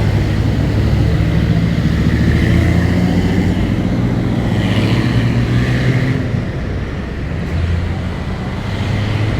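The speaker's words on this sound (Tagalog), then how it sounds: "Yan, daming sasakyan guys, nakakatakot." Steady dense roar of many vehicles streaming past on a busy highway heading toward C4, loud and continuous with swelling passes and no talk.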